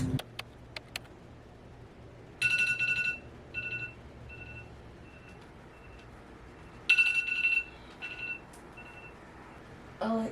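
A morning alarm rings in two bursts of repeated electronic beeps several seconds apart, clear but moderately quiet in an otherwise calm room.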